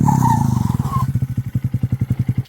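A 2025 Honda Grom motorcycle with an iStunt exhaust and the baffle removed, heard up close as a loud, throaty engine that settles into a deep, lumpy idle of steady chugging exhaust pulses.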